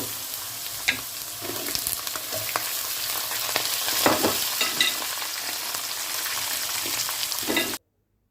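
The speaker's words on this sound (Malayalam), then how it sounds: "സവോളയും കൂടി നന്നായിട്ടൊന്ന് വഴറ്റിയെടുക്കാം കേട്ടോ" Sliced onions sauté and sizzle in a hot pan for a Kerala toddy-shop-style pork roast, a steady frying hiss broken by occasional stirring scrapes and clicks, with no talking, cutting off sharply at the end.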